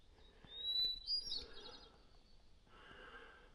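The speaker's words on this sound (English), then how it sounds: "I think we got a hermit thrush again" A hermit thrush sings near Desolation Lake, a few high, clear whistled phrases early on, moderately faint over quiet outdoor background.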